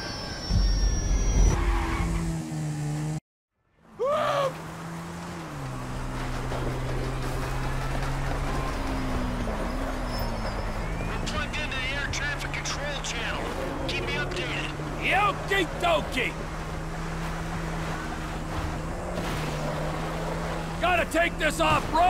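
An in-game car in GTA 5 revs hard off-road while chasing a falling plane, its engine droning and shifting in pitch with tyre skids under it. A voice talks over the engine.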